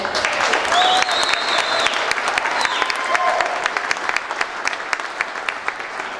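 Audience applause for a contestant at the 2013 Miss Mayhem Pageant, with a dense, steady crowd clapping throughout and a few whistles and cheers rising above it.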